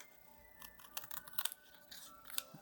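Scissors cut paper along a drawn line for a gingerbread house gift tag, giving faint, close snips and crisp paper rustles in uneven bursts with no talk.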